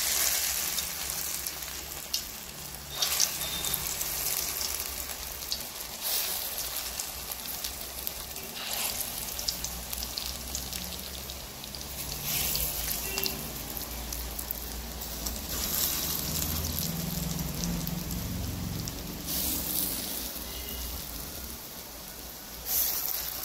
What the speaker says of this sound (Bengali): তেল গরম হয়ে গেছে, আমি গেঁদাল পাতার বড়া ভেজে নিচ্ছি